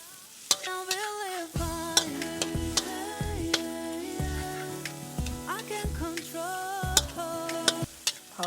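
Chili and garlic stir-fry in a wok with a little oil for Thai basil pork, a steady sizzle broken by sharp ticks of the spatula against the pan, under loud background music.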